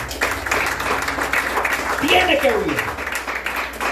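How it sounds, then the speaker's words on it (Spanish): A church congregation applauds during a sermon, a sustained wash of clapping with voices and cheers rising over it, fairly loud and close throughout. "Denle fuerte ese aplauso al Señor"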